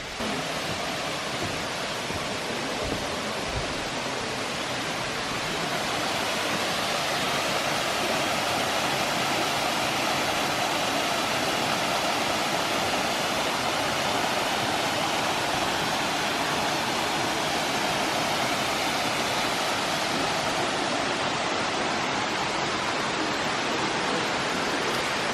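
A dense, steady roar of a waterfall in a valley on a farm in Russia, continuous and loud at close range for the whole stretch, with no voices.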